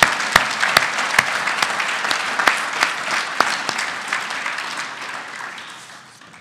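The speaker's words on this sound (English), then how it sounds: "let's give a round of applause to these." Audience applause at the 2017 PIIHOF induction ceremony, a dense round of many hands clapping with a few sharp individual claps standing out, gradually fading toward the end.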